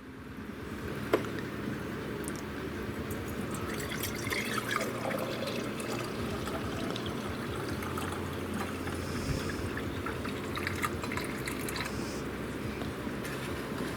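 Pedialyte being poured through a funnel into a glass canning jar, a steady close liquid splash and trickle running continuously with faint clinks.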